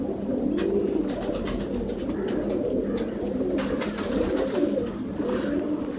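Pigeons in a loft coo continuously in soft, overlapping throaty murmurs, close and steady throughout, with a few faint higher chirps above.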